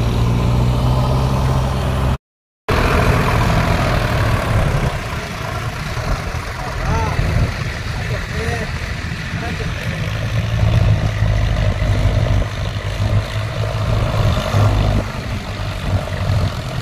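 Sonalika 35 tractor straining with a fully loaded trolley while stuck, a loud steady diesel drone with a rumbling low throb throughout, with people talking close by over the engine.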